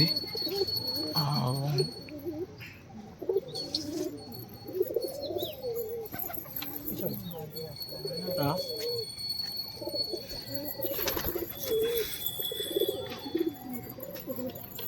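Several pigeons coo and call in soft, repeated phrases over a busy outdoor background at night in Odisha, India, with occasional voices mixed in.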